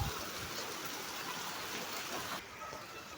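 Heavy rain pours down steadily on a farmstead courtyard, a dense, even hiss that holds at a constant level from start to finish, with no voices over it.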